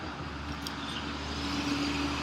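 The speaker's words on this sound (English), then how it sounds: "That was the big truck." A big truck drives past close by, its engine a steady broadband rumble that holds for a couple of seconds and swells slightly toward the end, with no talk over it.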